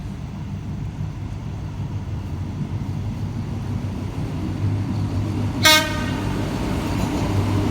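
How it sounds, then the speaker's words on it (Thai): An Alsthom diesel-hauled suburban train, number 351, rumbles steadily on its approach into Nakhon Pathom station, Thailand, with a brief sharp horn toot partway through and a low rolling drone underneath. "รถไฟชานเมืองขบวนที ่ 351 กำลังจะเข้าจอดที่ สถานีนครปฐมนะครับ"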